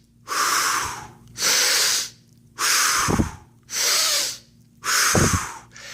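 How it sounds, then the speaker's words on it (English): Slow, deep breaths repeated in a steady rhythm, airy inhales alternating with heavier exhales, close and loud with no talking. "you're going to breathe in through your nose, out through your mouth"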